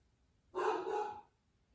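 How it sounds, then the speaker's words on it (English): Callie, a pit bull, lets out one loud, close bark lasting about half a second, alone in an otherwise quiet room. "We're letting her do her barking."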